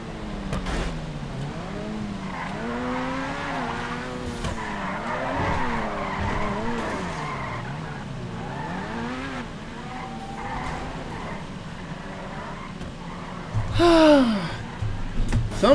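A car drifts in GTA 5 with a long wavering engine whine and continuous tire skidding, rising to a sharper squeal near the end, loud and close throughout.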